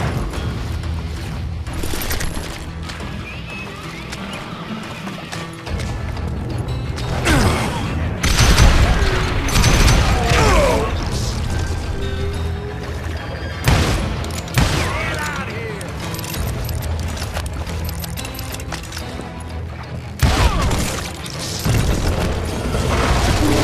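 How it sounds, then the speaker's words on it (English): Loud volleys of rapid gunfire and booming blasts from the western shooter Call of Juarez Gunslinger, a dense barrage raining down almost without pause, with voices heard at times between the bursts. "a fusillade of bullets come raining down from on high"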